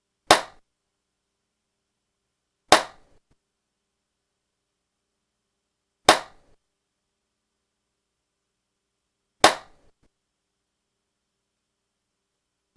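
Four sharp hand claps spaced about three seconds apart, each followed by a short lingering room tail, recorded in an untreated room before acoustic foam panels go up; no talking.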